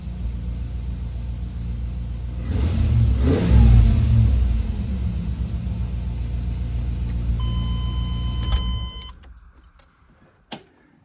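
A 1994 Chevy OBS truck engine, fitted with new spark plug wires and an idle air control valve, runs at a steady rumbling idle, swells through a loud rev, settles back, then shuts off with a click near the end.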